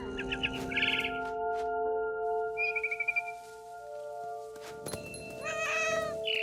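A cat meows several times in short, insistent calls, with bird chirps and a steady electronic hum beneath, in the video game What Remains of Edith Finch.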